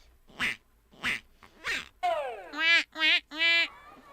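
Cartoon duck quacks from the 1997 Living Books game Arthur's Reading Race: three short raspy quacks followed by several rising-and-falling nasal honks in a quick series, clear and close.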